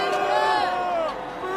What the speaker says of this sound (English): A few people clapped and cheered, but others were telling him to get off the stage.